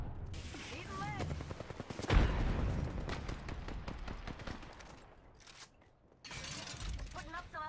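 Video-game gunfire crackles in dense, rapid bursts alongside clanking mechanical effects, with one heavy explosive hit about two seconds in and a brief lull near the end before the shooting picks back up loudly.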